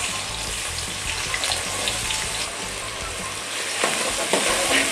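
Onion frying in about half a cup of oil for chicken biryani, a dense, steady crackling sizzle close up with occasional clinks of utensils, no talking.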